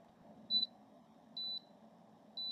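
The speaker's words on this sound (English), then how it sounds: "you heard the triple beep. That's just letting you know that it's ready." Three short, high-pitched electronic beeps from a portable electric kettle signalling it is ready, evenly spaced about a second apart, over a faint low hum.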